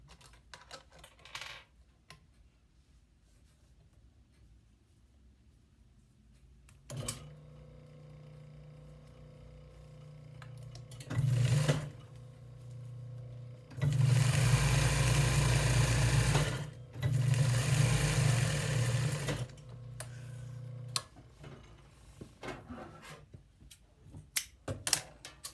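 An upholstery sewing machine fitted with a single piping foot stitches along piping in several short runs of rapid mechanical whirring, separated by quiet pauses, all at a low level.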